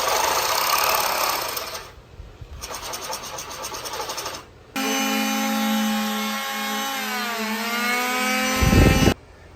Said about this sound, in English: take our drill bit and go through